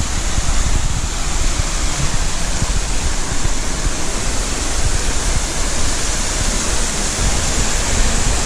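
Yost Run Falls, a waterfall along a forest trail, pours in a loud, steady broadband roar that stays constant throughout with no breaks.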